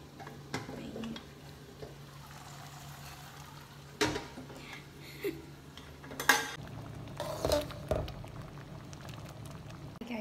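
A cooking pot of mung beans is handled, with a few sharp metallic clanks and scrapes of utensils against the pot over a faint background bubble, the knocks spaced irregularly and fairly close.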